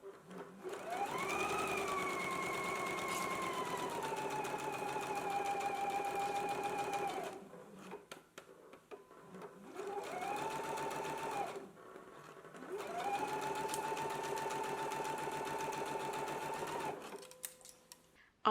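A sewing machine stitches a 5/8-inch garment seam on a McCall's sleeve, its motor whirring in long steady runs, pausing twice, then speeding up again, fairly close and alone.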